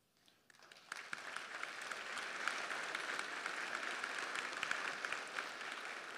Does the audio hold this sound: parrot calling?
no